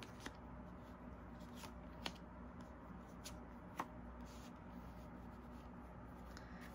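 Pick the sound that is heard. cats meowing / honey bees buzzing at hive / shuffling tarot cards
shuffling tarot cards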